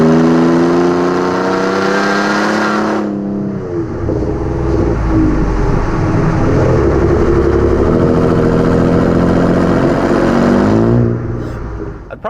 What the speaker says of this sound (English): Most of these are going to give you that turbo 6 sound because that's what it is.